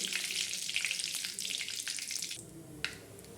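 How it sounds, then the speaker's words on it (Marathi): Hot oil crackles and spits as curry leaves hit the pan, a busy sizzling that eases off partway, leaving quieter frying with a single pop. "मग कडकडते चांगला कढीपत्ता आणि फोडणी छान बसतो"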